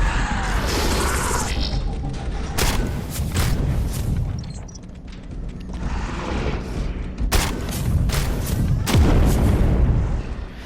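Heavy Hellfire weapon blasts from the apothecary class in Space Hulk: Deathwing, a string of loud, booming explosive shots with crashing impacts spread across the stretch, near and dense, with no talking.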